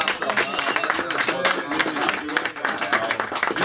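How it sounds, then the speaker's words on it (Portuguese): A studio audience claps in steady, dense applause for a new poetry radio program on Rádio Nacional, continuous and fairly loud throughout the short burst. "vamos bater um aplauso para o programa Walter Lima."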